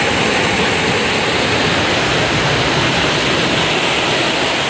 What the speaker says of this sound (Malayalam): പെരുമാതുറയിൽ റോഡിലേക്ക് തിരയടിച്ച് ഗതാഗതം തടസ്സപ്പെട്ടു.